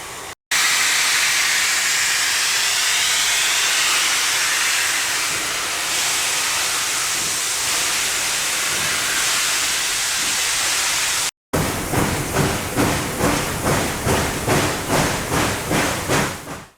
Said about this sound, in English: the valve opens, the steam exhausts out, and that's what you're hearing as a chuff